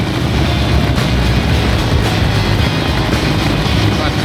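A motorcycle rides along a busy Vietnamese highway with a loud, steady engine drone and heavy wind rumble that never lets up, close and continuous throughout.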